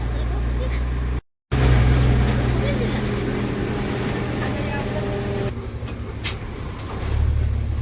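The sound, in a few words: MSRTC Tata CNG bus driving on highway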